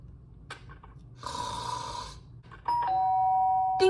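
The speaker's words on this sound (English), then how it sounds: "Quit ringing the doorbell!" A doorbell in the video game Danganronpa: Trigger Happy Havoc sounds a bright two-tone chime, first a sustained ringing burst and then a clear, loud ding-dong tone that holds near the end, over a low steady background.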